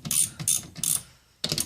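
A ratchet wrench with a 10 mm socket backs out the door motor screws on a Mazda CX, with three quick bursts of loud clicking pawl and a short pause before the last one, close by with no talk.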